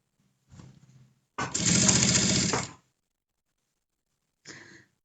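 A sewing machine stitches a line of topstitching along the edge of a fabric face mask in one sustained run, framed by brief quieter mechanical sounds before and after.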